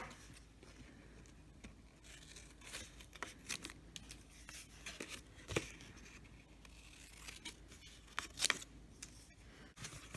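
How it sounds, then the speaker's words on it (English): Scissors snip the corners of a cardboard binder cover in a quiet room, a few faint, sharp cuts and rustles spaced irregularly, with no talking. "we are going to cut the corners right here"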